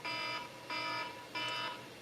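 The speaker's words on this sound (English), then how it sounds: "There go the alarms again." An electronic alarm rings in three evenly spaced bursts, each a bright, steady, tonal beep about half a second long, moderately loud against a quiet background with no voices.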